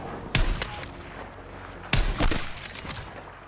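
Sniper rifle shots from the Battlefield 6 video game: two loud, sharp cracks about a second and a half apart, each with a short ringing tail and rumbling echo.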